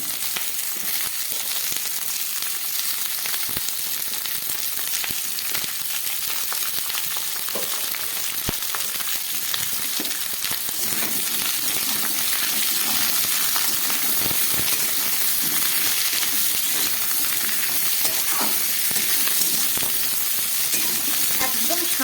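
Winter vegetables, including ridge gourd, radish and carrot, sizzle in a pan for a Bengali mixed vegetable dish, a continuous crackling fry with scattered sharper pops and stirring scrapes that runs close and steady throughout, without talk.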